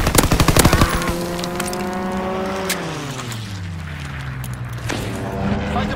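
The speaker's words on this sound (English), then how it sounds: "Fighter pilot inbound, strafing the target!" A fighter plane's strafing run in Call of Duty WWII: a rapid burst of machine-gun fire up front, then an engine roar sweeping past and falling away, with a voice heard briefly.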